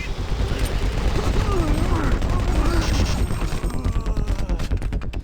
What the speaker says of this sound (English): I really like how all of the weapons handle and feel when firing, especially the chain gun and the plasma rifle.